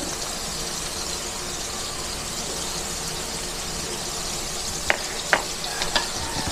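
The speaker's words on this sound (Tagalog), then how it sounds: "Haluin natin." Bottle gourd and shrimp sizzling in a pan, a loud continuous hiss close by, with a few quick scraping strokes of a spatula stirring near the end.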